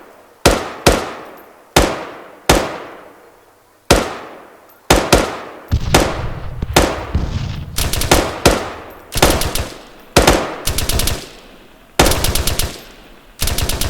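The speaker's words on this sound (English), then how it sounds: "You want me to put down suppressor fire with my M4?" M4 rifle laying down suppressing fire with tracers, opening with sharp single shots at a steady pace, then breaking into dense rapid bursts, loud and close with no talking.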